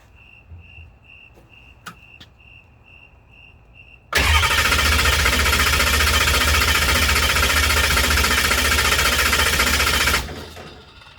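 After a quiet stretch with a steady insect-like whine and a couple of clicks, the large diesel engine of an M1152 military truck cranks and roars loudly for about six seconds, then cuts off abruptly.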